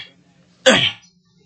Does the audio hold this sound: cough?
yes